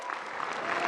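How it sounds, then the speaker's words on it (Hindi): Steady, dense applause from a large audience welcoming the Prime Minister onto the stage at a public event, continuous clapping throughout the short moment with no pause. "एक बार जोरदार तालियों से स्वागत कीजिए माननीय प्रधानमंत्री श्री नरेंद्र मोदी एवं मनसुख मांडविया जी का"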